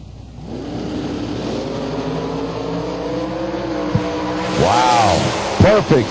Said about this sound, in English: Good looking blue and silver multicolored dragster over there in the right lane.